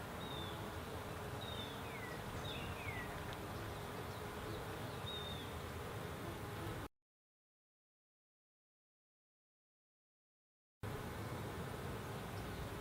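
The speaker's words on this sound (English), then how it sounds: "Look at that bee" Bees buzz faintly around a hive frame of a newly captured swarm over a steady outdoor hum, with a short stretch of total silence partway through and no speech.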